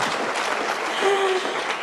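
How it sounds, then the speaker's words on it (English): Audience clapping for the organizers at the Kenya EdTech Summit. It is a short, dense burst of steady applause, with a faint tonal squeak partway through. "So, can we give them a hand clap?"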